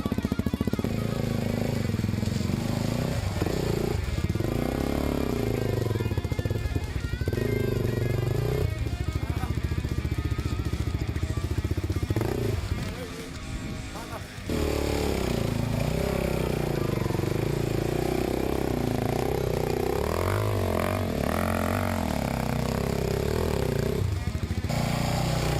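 Enduro motorcycle engine labouring up a steep hill, loud and continuous with rough revving, throttle blips and clattering over rocks, a brief dip midway, while voices talk over it.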